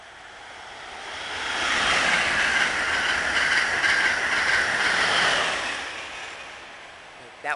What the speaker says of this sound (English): That was an Acela express train